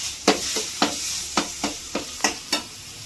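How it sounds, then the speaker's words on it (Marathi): Cumin and ground green chili paste sizzle in hot oil, close up, while a spoon scrapes the pan in about eight rhythmic strokes. "त्यामध्ये तेल टाकून थोडंसं जिरं टाकलेलं आहे फोडणीसाठी, आणि त्यामध्ये हिरव्या मिरचीचं वाटण पण घातले"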